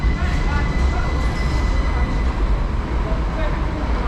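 A Class 377 electric train, unit 377 605, pulls into a station on the Caterham branch in Surrey, a steady loud rumble and rail roar with a faint high whine, continuous throughout with no talk.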